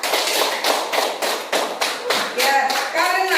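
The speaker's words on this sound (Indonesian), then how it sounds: "Diberikan tepuk apresiasi untuk kelompok 3." Classroom applause for a student group: a burst of claps and taps in several uneven rhythmic pulses, fairly close and loud, with voices chattering alongside toward the end.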